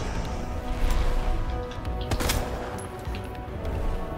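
Repeated gunfire in the Resident Evil 2 Remake video game, dense bursts of shots fired continuously over game sounds, with one sharp loud crack standing out midway.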